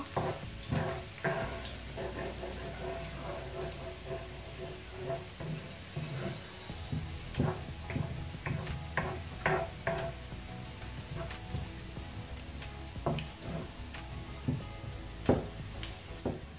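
Garlic gently toasting in a pan for a vegetable noodle dish gives off a faint, steady sizzle broken by scattered soft pops and ticks, quiet and close, with no voices.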